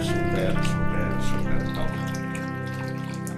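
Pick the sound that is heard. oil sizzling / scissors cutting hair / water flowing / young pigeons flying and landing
water flowing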